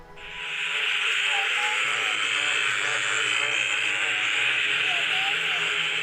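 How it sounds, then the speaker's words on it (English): Frogs call at night near flooded back roads around Ingham in Australia, forming a dense, steady chorus that holds for several seconds with no pauses. "The frogs were just at epic levels because of all the floodwater everywhere."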